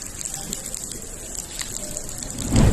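Water streams and drips steadily through the leaking roof of a newly built airport in Ram Nagari, a continuous rushing wash that swells louder near the end.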